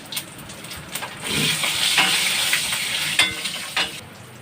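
Green chili and five-spice tempering sizzle in hot oil in a wok for a tangra fish curry, a close, crackling fry with spatula scrapes and knocks scattered through it.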